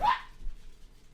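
A single short dog bark, sharp and fairly close, followed by quiet low background hum.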